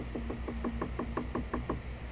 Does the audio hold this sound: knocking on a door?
yes